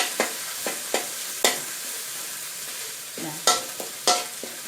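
Garlic and pounded chili frying in a pan while being stirred, a steady soft sizzle broken by several sharp scraping stirs at irregular intervals, close and fairly quiet, with no talking.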